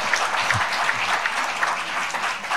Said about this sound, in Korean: 뜨겁게 감사의 박수 부탁드립니다